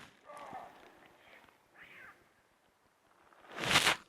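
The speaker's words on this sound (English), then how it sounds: "I've just heard a leopard rasping to the west of us." A leopard gives faint, distant rasping calls on a night safari, several soft bursts in a quiet soundscape before a louder noise breaks in near the end.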